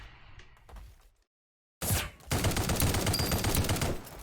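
Rifle gunfire in the video game Project Genesis: a dense, loud run of rapid shots after a brief silence, with a few quieter bursts before the gap, no talking.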